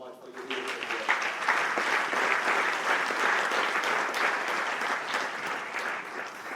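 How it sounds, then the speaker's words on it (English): An audience breaks into a round of applause at a formal EU gathering, dense steady clapping from many hands lasting several seconds, a voice briefly heard at the start. "I think that deserves a round of applause"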